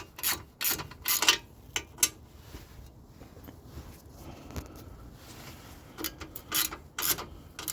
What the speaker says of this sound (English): so we tighten this bolt up here